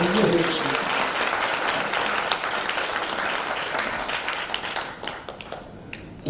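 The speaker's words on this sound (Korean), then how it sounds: "다시 한번 박수로 격려해 주시면 좋겠습니다" An audience at a national emergency elders' meeting bursts into applause, loud and sustained many-handed clapping that slowly tapers, with a few individual claps standing out near the close.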